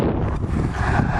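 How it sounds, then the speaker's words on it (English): Heavy wind buffeting the microphone outdoors beside a barn-find vehicle, a constant low roaring rumble that fills the whole clip with no speech over it. "Freaking wind!"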